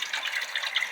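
Water gushing steadily from a tap at a community center drinking station, a brief close hiss of running water with no talk.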